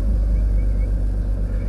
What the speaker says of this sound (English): If I press the brake, see that? That's me pressing the brake pedal.